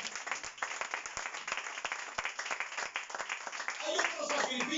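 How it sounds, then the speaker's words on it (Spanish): Applause from a church congregation fills the space, a steady wash of many hands clapping at moderate loudness, swelling slightly near the end as voices rise over it. "Dale un aplauso más al Señor."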